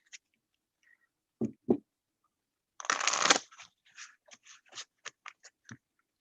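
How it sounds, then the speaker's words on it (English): A deck of tarot cards handled and shuffled close up on a table: a few soft taps, then a brisk riffling burst, followed by a string of crisp card snaps and clicks. "Get a different deck out here. We're going to pull 3 cards for Kayla."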